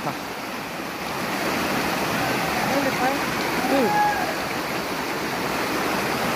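Headwaters of the Moi River flowing, a steady, close rushing of water with a few brief chirps or squeaks over it, continuous from start to finish.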